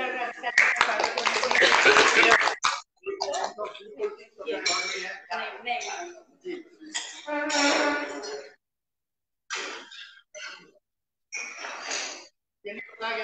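Audience clapping at an award function in Mandi, a loud burst of applause at the start followed by broken, patchy sounds with pauses, mixed with talk and clinking noises.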